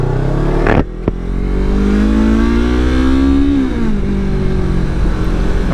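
A Yamaha R3 motorcycle fitted with an Akrapovic slip-on exhaust accelerates hard through the gears while riding, its engine note climbing steadily and loud, with a brief dip as it shifts, up close and without talk.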